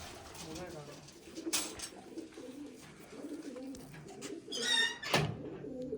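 Hobby pigeons coo in soft, repeated throaty calls close by, with a couple of sharper flutters or calls and quiet voices in the background.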